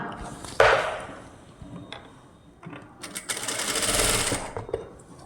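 A sewing machine stitching a puff sleeve runs in short bursts, with a sharp clunk near the start, brief pauses, then a longer whirring run, close and fairly quiet.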